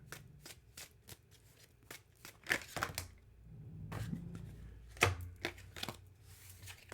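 Tarot cards being shuffled by hand in a quiet room, a run of crisp riffling and flicking bursts with short pauses, louder snaps near the middle and end, no voices.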